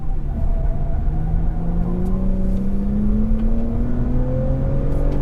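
A 2020 Toyota Camry TRD accelerates in sport mode with the transmission holding a lower gear, its engine note rising steadily in pitch as a loud, continuous drone heard from inside the cabin.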